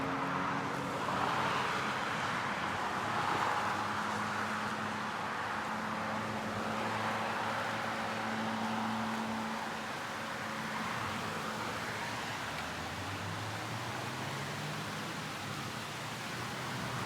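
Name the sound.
noisy road traffic near Kennesaw State University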